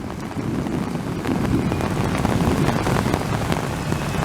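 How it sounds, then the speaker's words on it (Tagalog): A heavy downpour roars on without pause during a flash-flooding storm, a thick, steady wash of rain with wind buffeting the microphone and no one talking. "ang lakas ng buhos ng ulan"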